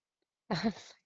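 A single short sneeze, close and fairly loud, breaking a moment of silence.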